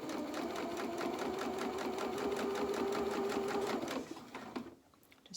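A sewing machine stitching doll-sized pyjama trousers runs in a steady rapid whirring rhythm for about four seconds, then slows and stops, close and clear with no talking.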